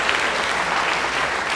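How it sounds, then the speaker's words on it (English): Audience applause at a museum fundraiser auction, a dense steady roar of many hands clapping that holds at an even level throughout, with no voices rising above it. "a big round of applause"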